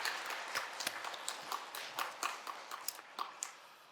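A church congregation at a Sunday service gives a faint, fairly distant round of applause to welcome a new teacher, scattered claps forming a steady patter with a few sharper individual claps.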